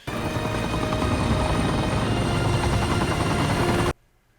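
A helicopter in a movie scene, its rotor and engine roar loud and continuous, thudding steadily before cutting off abruptly near the end.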